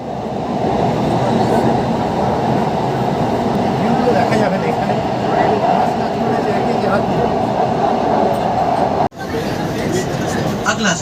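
A Howrah metro train runs through the tunnel beneath the Ganga river, a loud steady rumbling roar with rail noise that continues throughout, with a brief dropout near the end, and people speaking over it.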